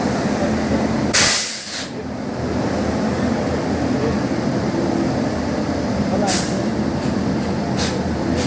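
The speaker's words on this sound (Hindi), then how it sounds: "स्पेशल ट्रेन सभी से प्रारंभ हो गई है।" Inaugural Rewa–Udaipur special train departing, a steady broad rumble and hiss of the moving train with sharp bursts of noise near the start and again toward the end, under a faint murmur of voices.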